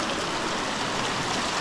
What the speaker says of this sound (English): So this is the hot creek here.